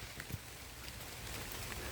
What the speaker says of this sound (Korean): 하필 또 비가 오냐